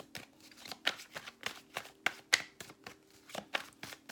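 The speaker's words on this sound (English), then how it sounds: "Let's do a little bit more shuffling." Tarot cards being shuffled by hand, a steady run of soft, quick riffling flutters in an irregular rhythm, close and quiet, with no voice.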